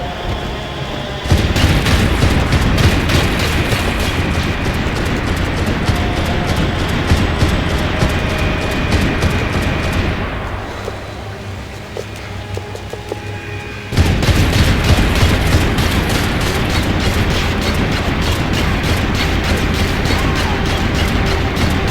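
Video-game combat in Max Payne: dense, rapid gunfire crackles almost continuously, briefly thins to a lower rumble, then resumes with loud booming blasts from RPG explosions.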